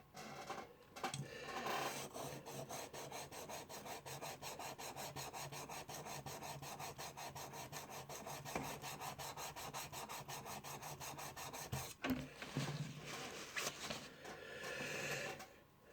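Hand plane cutting iron lapped flat on a sharpening stone, giving a steady, close rasping rub with fast back-and-forth strokes that runs almost continuously, with a brief pause near the end.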